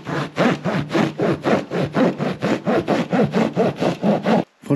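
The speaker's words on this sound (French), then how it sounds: "Je vais tester au couteau dans l'autre sens" A knife is worked back and forth through wood fibre insulation boards on an interior ceiling, making a steady run of about twenty close, rasping sawing strokes that stop abruptly near the end.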